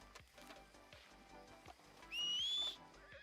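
Horse in the video game Red Dead Redemption 2, heard faintly with soft hoof and movement sounds before a short, high whinny rises clearly near the end.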